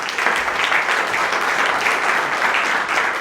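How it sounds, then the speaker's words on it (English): An audience gives a round of applause for a guest named Stephen, a steady, even wash of many hands clapping at moderate distance, unbroken for the full few seconds. "Give Stephen a round of applause."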